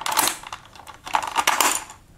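A keycap puller prying keys off a Microsoft keyboard, giving a few quick plastic clicks and rattles close by, with two clustered bursts of clatter and no voices.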